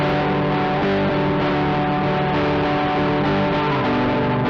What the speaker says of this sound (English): That's a really classic overdriven rock tone.